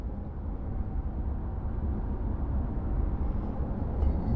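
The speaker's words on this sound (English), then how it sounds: "The main sound is actually coming from the tires, but that sound is so low." Goodyear Wrangler Fortitude HT tires on a Ram pickup cruising at 65 mph make a low, steady road rumble and hum heard from inside the cab, even and continuous, with little wind noise and no talking.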